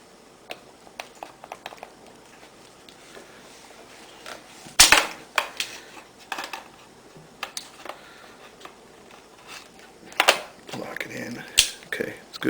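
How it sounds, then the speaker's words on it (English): Metal clicks and clacks as a scope mount is fitted onto a 5.56 mm AR-180B rifle. Sharp, close mechanical snaps stand out against a quiet background, with a loud clack near the middle and several more toward the end. "Now, install the scope mount here."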